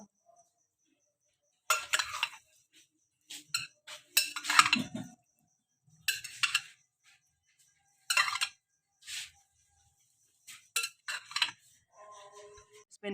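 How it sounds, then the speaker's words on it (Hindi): Chole chaat being mixed with chaat masala in a dish, intermittent close clinks and scrapes of a spoon against the bowl in short bursts separated by silence. "चाट मसाला, वो हम इसमें डालेंगे। वो भी आप अपने हिसाब से देखिए, खट्टा रखना चाहते हैं तो ये इस तरह से देख लें। अच्छे से इसको मिक्स कर लें आप।"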